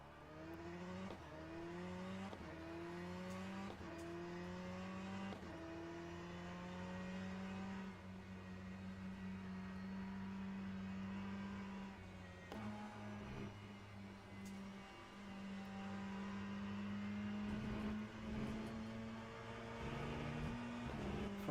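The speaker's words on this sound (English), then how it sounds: "Ferrari sounds very quiet." A Ferrari race car engine in Le Mans Ultimate, a quiet steady engine note rising through repeated upshifts and revving on cold tires, heard alone at low volume for a long stretch.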